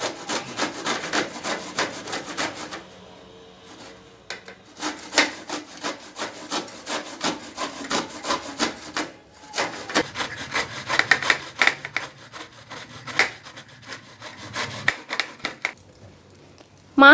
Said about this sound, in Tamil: ஒரு கிரேட்டர் வச்சு இதை நல்லா துருவி எடுத்துக்கலாம்